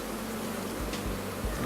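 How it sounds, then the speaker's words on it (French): Honeybees in a crowded beehive, a dense continuous close buzzing hum from many insects, steady throughout with a few low thumps and no speech. "c'est une ruche où il y a beaucoup d'abeilles"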